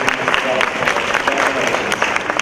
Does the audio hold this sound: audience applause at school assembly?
yes